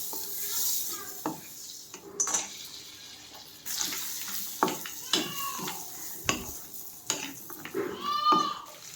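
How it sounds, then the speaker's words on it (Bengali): Cashews and raisins fried lightly in butter in a pan, a soft sizzle broken by repeated utensil clinks and stirring scrapes, with a few faint vocal sounds in between. "কাজু কিশমিশ দুটোই একটু হালকা করে বাটারে ভেজে নিলাম"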